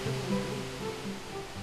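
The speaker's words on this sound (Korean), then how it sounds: "용수폭포의 시원한 물소리가 무더위도 잊게 해줍니다" Steady rushing water of a waterfall pours continuously, a soft broadband wash with no voices, moderately faint and even throughout.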